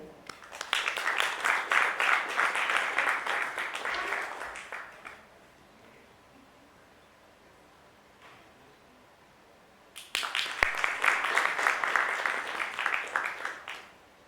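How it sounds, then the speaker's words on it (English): Audience applause at an FMCG supply chain summit panel, two bursts of steady clapping from a room of people separated by a quiet pause, loud and close. "Let's give them a huge round of applause."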